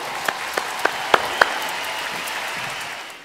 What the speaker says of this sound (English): Let's give a big round of applause to all that we've achieved together.